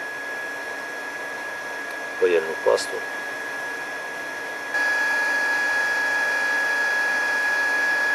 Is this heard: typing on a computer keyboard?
no